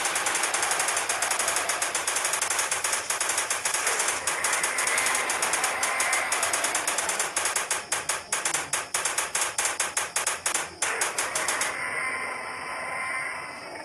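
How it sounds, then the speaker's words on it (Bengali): Machine gun firing at dinosaurs in a Jurassic Park video game, a long run of rapid rattling shots that grows choppier and uneven before stopping, loud and close with no talking. "এই ডাইনোসরটাকে মেশিন গান দিয়ে পুরোপুরিভাবে শেষ করে দিয়ে দিয়েছি"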